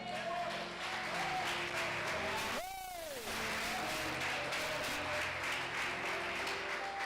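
A church congregation at Igreja Casa da Benção claps steadily throughout, with a brief rising and falling tone and some voices partly over the clapping.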